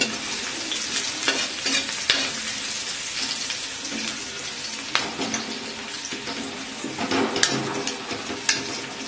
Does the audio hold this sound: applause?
no